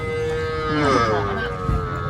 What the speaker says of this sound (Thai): ด้านหลังเปิ้นก็จะเป็นวัว ที่เอาไว้บนหลังรถ